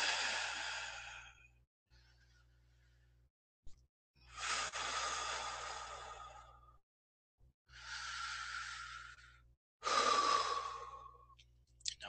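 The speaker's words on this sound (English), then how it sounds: "Take a few deep breaths." Several slow, deep breaths, each a long audible inhale or exhale, spaced a couple of seconds apart in a quiet room with no talking.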